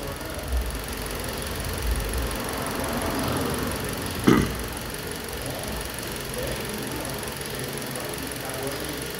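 A 2010 Toyota Corolla engine with a misfiring cylinder idles in a steady, uneven mechanical churn with one louder knock partway through, close up, while voices murmur faintly in the background.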